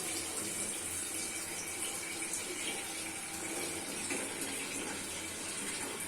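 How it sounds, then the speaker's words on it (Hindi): Tap water runs steadily into a pan of boiled eggs in a kitchen sink, a continuous close splashing rush that holds even from start to finish with no talking. "फिर पानी इस तरह चेंज कर दें। चेंज करने के बाद दोबारा पानी डाल दें।"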